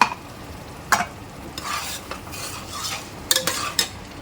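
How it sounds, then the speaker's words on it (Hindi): Spices for mutton paya curry sizzle in a hot pan while a spoon stirs and scrapes through them in a few short bursts, close and fairly quiet. "इसको हम 10 से 12 मिनट तक का मसाले को अच्छे से भूनते हैं"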